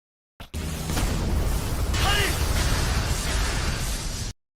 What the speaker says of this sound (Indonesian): pas ditangkis sama si Nur, tuh tembakan sihir jadi meledak gitu guys.